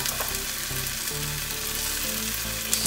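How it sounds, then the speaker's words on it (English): Ginger, garlic and tomatoes sauté in a pan for butter chicken, a dense, continuous sizzle throughout with a low hum underneath, close and fairly loud, with no talking. "So we're gonna saute the tomatoes."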